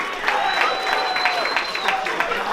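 Audience at a pizza-making gathering applauds the pizza team, steady clapping with a few cheers throughout, while a faint tone hovers over the crowd noise.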